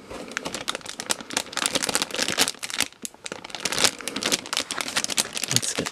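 Crinkling and tearing of plastic packaging as a 1/100 scale model kit box is opened, a dense run of close, continuous rustles and crackles with no talking.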